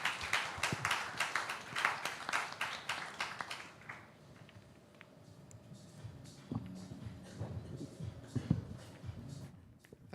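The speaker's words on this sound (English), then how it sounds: "if we could all just give a nice round of applause for the panelists" Audience applause for panelists at a technology summit, a dense burst of clapping for about four seconds that then thins into scattered claps, shuffling and room noise.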